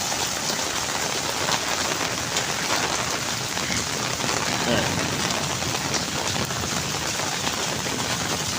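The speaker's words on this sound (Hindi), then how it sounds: "आज सिर्फ और सिर्फ बारिश।" Dense, steady rainfall pours down in a Pakistani village, a continuous close hiss of drops hitting surfaces with no pauses.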